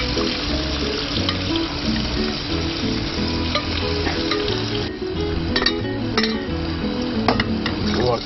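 Squid with garlic frying in olive oil gives a steady, loud sizzle close by, with occasional sharper crackles and pops throughout and no talking.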